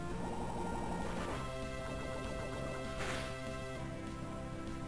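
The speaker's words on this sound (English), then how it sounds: "I'm going to just stay with Scorpio and take this thing out with a Sludge Bomb" A Sludge Bomb attack in the video game Pokemon Light Platinum, a dense, loud burst of splattering, crashing game effects with a brief sharper surge near the end, no talk over it.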